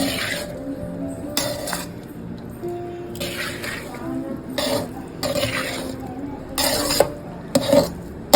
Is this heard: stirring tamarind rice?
yes